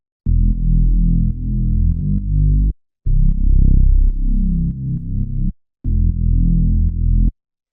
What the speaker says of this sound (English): after that we have the bass line, which sounds like this